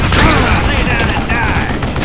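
Dense gunfire rattles nonstop in the western shooter Gun, a loud, close fusillade of overlapping shots with mechanical clatter underneath.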